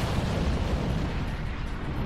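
An explosion in a Roblox RPG video game gives a dense, roaring, rumbling blast that fills the whole short moment at steady loudness.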